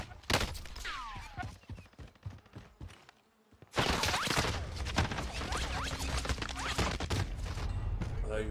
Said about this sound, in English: Snipers over there shooting at me.